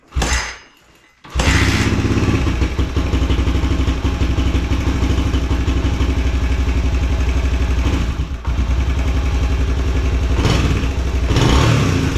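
A 2021 Suzuki DRZ 125 dirt bike with a bogging problem, running cold on choke after a carburetor jet cleaning, cranks, dies briefly, then catches and runs loud and close with a rough, steady idle and a few short revs.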